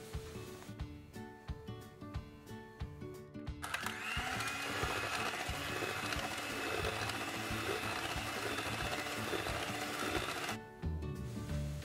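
A cake batter of eggs, melted butter and sour cream being mixed with an electric mixer: a few seconds of intermittent whirring bursts, then a sustained loud motor whine that stops abruptly near the end, with no talk.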